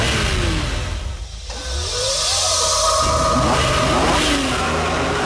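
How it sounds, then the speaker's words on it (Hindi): A car engine in GTA 5 starts up and revs, driving off under power; the engine note is loud and steady, rising and shifting pitch through several sweeps. "मैं गाड़ी को स्टार्ट का कमांड दे देता हूँ और फिर उसके बाद सिस्टम ऑन हो जाता है।"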